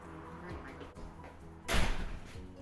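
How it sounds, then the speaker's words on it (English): A kitchen door swings shut with a single solid thud partway through, preceded by quieter room noise and faint handling sounds. "we're gonna close the door because it's too loud"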